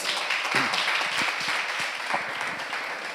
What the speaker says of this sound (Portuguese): Vamos aplaudir mais uma vez essas mulheres de Deus.